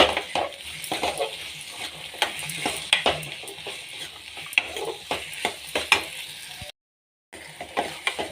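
Tomatoes and onions frying in a pan: a constant sizzle under rhythmic, repeated spatula scrapes and taps, close and fairly loud, with a brief dropout near the end and no voices.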